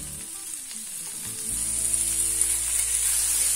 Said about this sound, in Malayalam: ഇനി നമുക്ക് പനീർ ഇട്ട് കൊടുക്കാം.